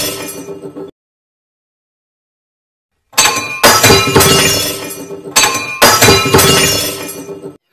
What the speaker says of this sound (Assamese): গামলাটো নেভাঙিব ছাৰ।